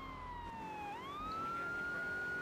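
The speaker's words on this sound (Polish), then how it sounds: "Włączymy sobie syrenę i rozpoczniemy misję patrolową." A police car siren in Grand Theft Auto III wails in a steady, loud electronic tone that dips and then rises into a sustained high pitch, with no talk over it.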